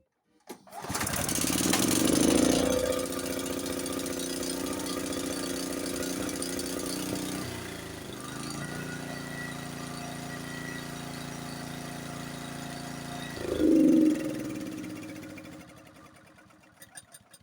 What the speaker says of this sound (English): when I had it on choke, did you hear how it was running kind of funny at first?